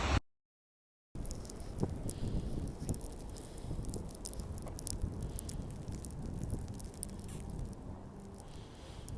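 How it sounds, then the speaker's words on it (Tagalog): Strong winter wind in Edmonton, Canada, roars as broadband buffeting over the microphone, continuous and loud after a brief silent gap at the start. "Windy, so windy."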